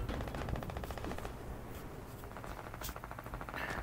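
Rapid SMG gunfire from the Fortnite video game rattles quietly in dense, fast bursts throughout, with no talk over it.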